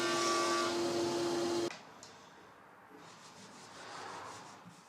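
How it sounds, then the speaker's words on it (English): Salvaged pine panels are sanded at 80 then 120 grit, a loud close sanding rasp for under two seconds that cuts off, followed by faint rubbing and quiet workshop noise. "Each panel then gets sanded wherever needed at 80 and then 120 grit."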